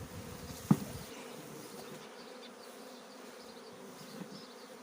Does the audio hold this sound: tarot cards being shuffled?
no